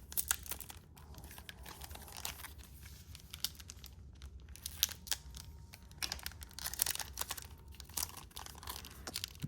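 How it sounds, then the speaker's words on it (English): Stadium Club trading card pack being torn open with difficulty, close crinkling and crackling of the foil wrapper with irregular sharp rips and tugs, quiet and continuous for about ten seconds, no talk. "that was the hardest pack I've had to open"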